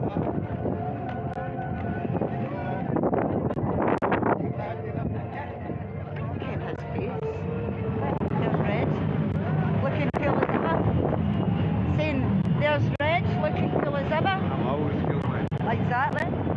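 Steady wind buffets the microphone throughout an outdoor independence march in Dumfries, a continuous low rumble and roar while people talk over it.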